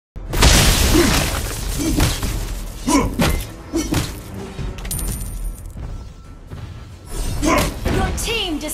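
A turret is destroyed in the Mobile Legends mobile game: loud crashing thuds and shattering impacts, followed by softer scattered game effects and a final burst.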